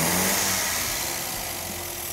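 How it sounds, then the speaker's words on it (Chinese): A restored vintage MG TA car's engine runs steadily, a loud continuous mechanical rumble with a slight fading over its short span and no talk. "大体上修复完成，福兹终于可以听听这台发动机的声音"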